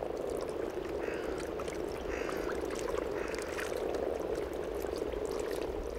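A dense chorus of frogs croaking continuously, many overlapping calls forming a steady, loud rhythmic drone.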